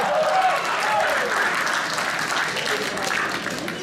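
Audience applause at a fan-convention panel, continuous clapping from a sizable crowd that holds steady for several seconds at moderate loudness, with faint voices mixed in.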